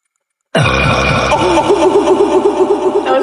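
A loud, sustained burp in a burping contest after drinking Coke, a long rumbling eructation of about three seconds that starts abruptly and stays strong, close and alone.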